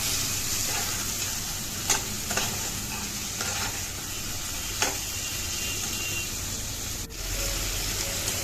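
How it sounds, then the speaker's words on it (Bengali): Fish head pieces, pre-fried, sizzle as they fry with ground spices in a pan, with a steady loud frying hiss and occasional stirring scrapes and clinks. "মশলার সাথে মাছের মাথা খুব ভালো করে কষানো হয়ে গেছে"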